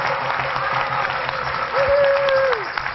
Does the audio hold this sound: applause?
yes